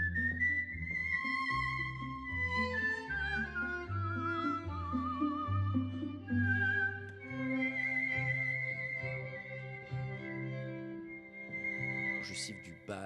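A master whistler performs a classical melody with a string quartet, clear sustained whistled notes with vibrato gliding over bowed strings and a plucked bass line.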